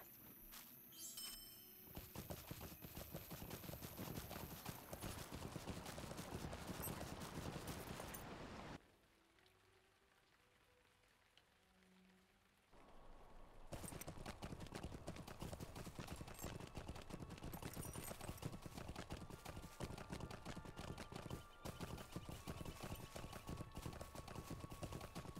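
A horse's hooves clip-clop steadily in the Lord of the Rings Online video game. The rhythmic footfalls keep going, break off for a few seconds and then resume.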